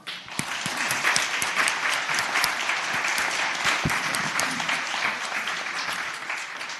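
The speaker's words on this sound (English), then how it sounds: "Let's give them an applause." A full round of applause fills the Virginia Senate chamber, dense steady clapping from many hands sustained for nearly seven seconds, with no speech over it.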